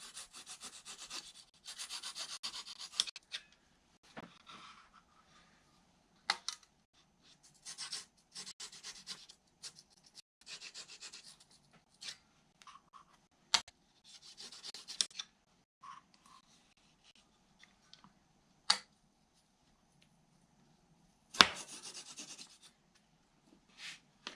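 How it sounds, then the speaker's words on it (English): Coarse hand saw cutting thin model-building stock, heard as short scratchy rasping strokes in irregular bursts with pauses between, close and moderately quiet, plus a few sharp taps. "I could probably stand to have a saw that's a little bit more with a finer cut maybe. This one's a little coarse for this thin stuff."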